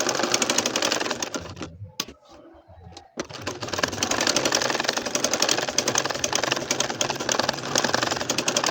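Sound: sewing machine stitching a nakshi kantha quilt

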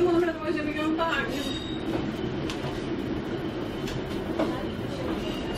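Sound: train arriving at St Ives station

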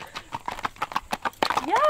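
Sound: gaited horse hoofbeats on driveway

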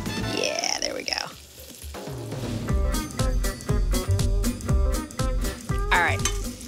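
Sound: turkey cutlets frying in vegetable oil in a pan

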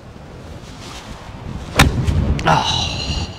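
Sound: strong wind blowing on a golf course

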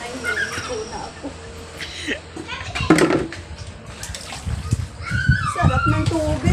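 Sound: water splashing while bathing

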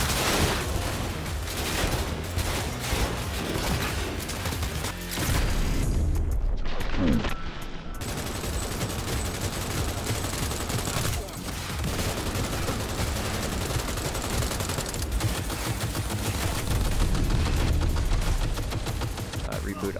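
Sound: arm-launched missiles blowing up vehicle, Cyberpunk 2077 video game

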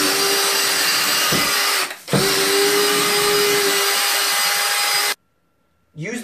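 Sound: drill with Bring It On brush scrubbing tile

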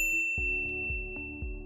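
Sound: notification bell ding sound effect

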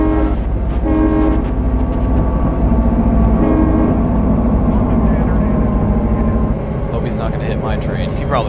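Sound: freight train passing in Train Simulator 2017 video game

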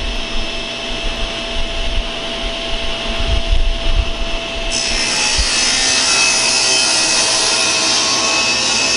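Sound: saw cutting wood on a crosscut sled

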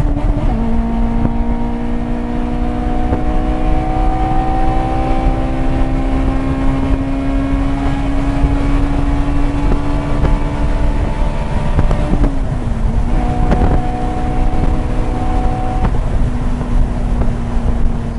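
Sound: Honda S2000 engine revving while driving with the top open

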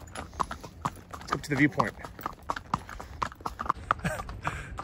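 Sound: horse hooves clip-clopping during a ride

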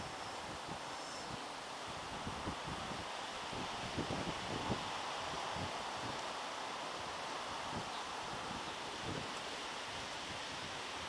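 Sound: wind blowing at a fishery

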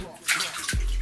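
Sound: Moto G phone falling into water, splash

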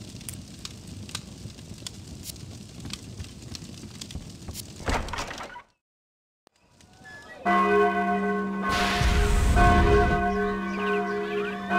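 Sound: alarm bells ringing in the video game Sudeki

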